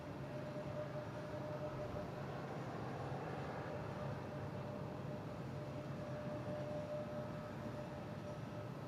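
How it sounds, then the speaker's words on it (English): A passenger plane coming in to land at Boston Logan International Airport, a steady broadband roar holding level throughout without voices. "All right, next plane coming in,"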